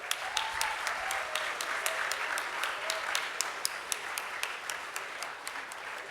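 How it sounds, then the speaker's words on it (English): A room full of workshop participants gives a sustained round of applause for the students, with dense, steady clapping running the whole time and a few sharper individual claps standing out. "And let's give a round of applause for them."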